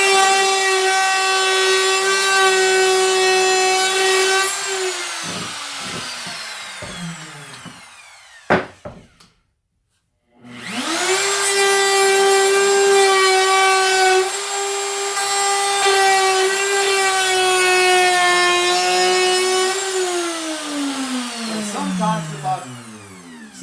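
A router with a bearing-guided bit cuts into wood, spinning up to a loud steady whine that bites and drops in pitch during passes, cuts off briefly, then restarts for a second long close-up run.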